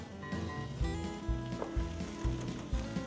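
Garlic sizzles as it is added to mushrooms frying in a pan, a steady close crackle with soft rhythmic thumps of stirring underneath.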